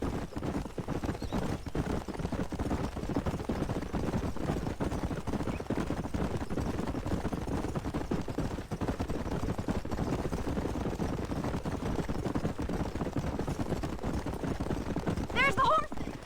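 Horses clip-clop in a galloping rhythm across a Red Dead Redemption game scene, steady hoofbeats running throughout at moderate loudness, with voices talking over them and a brief whinny near the end.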